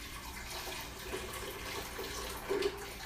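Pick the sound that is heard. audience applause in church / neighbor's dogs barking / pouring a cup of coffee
pouring a cup of coffee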